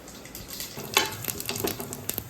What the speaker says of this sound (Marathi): आता मी हे खडे मसाले घेतले ते तेलामध्ये टाकते